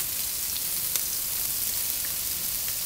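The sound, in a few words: onions with salt frying in a pan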